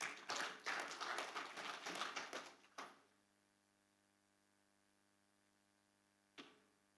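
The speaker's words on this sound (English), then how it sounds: "Please give him a round of applause." Brief applause from a conference audience for a speaker at a scientific conference, a few seconds of scattered clapping that quickly dies away into near silence, followed later by a single isolated knock.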